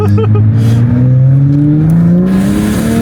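A Toyota Supra with a B58 turbocharged engine and an upgraded intake pulls hard, its steady engine drone rising in pitch as it accelerates, with turbo whine layered over loud, close road noise.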